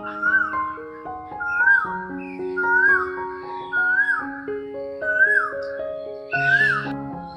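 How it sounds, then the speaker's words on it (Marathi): A koel calls again and again, a short rising whistle repeated at a steady pace over sustained musical tones, in a nature park in Thane. "कोकिळेचा आवाज येतोय, कुहू असा आवाज येतोय"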